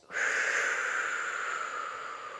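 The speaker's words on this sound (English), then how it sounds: "And slowly breathing out." A long, slow exhale, steady and close, a soft airy hiss that gradually fades over a couple of seconds.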